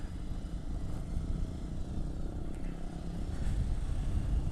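A Yamaha R15 motorcycle ridden on a clear day, heard as a continuous engine drone mixed with wind rush, steady and fairly loud with no speech.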